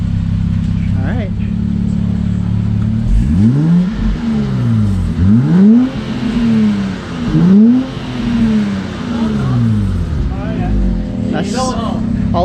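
A Subaru GC8 fitted with a new Q60 sport exhaust idles loudly close by, then is revved several times in rising and falling sweeps, while people talk over it.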